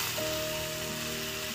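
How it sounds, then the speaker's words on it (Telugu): Sliced okra frying in a pan gives off a steady, even sizzle and hiss, continuous and moderately quiet with no breaks. "ఇవి ఫ్రై అయ్యేదాకా ఈ జిగుటూ అంతా పోయేలాగా ఫ్రై చేద్దాం."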